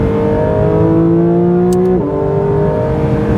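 A sports car speeds along at high speed, its engine holding a steady loud drone that drops pitch slightly as it shifts, with faint wind and road noise underneath and no talk.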